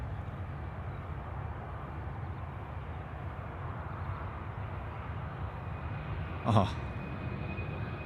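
A Boeing 717 jet takes off from Sydney Airport for Canberra, its engine roar a steady, distant broadband rumble throughout, with a brief spoken exclamation near the end.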